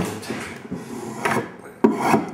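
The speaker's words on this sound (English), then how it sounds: "It's some kind of English planer. I'm just kind of taking that off like that." An English hand planer shaves the rough routed edge off a wooden loft ladder, giving short rasping strokes in an uneven rhythm, close and fairly loud, with no talk.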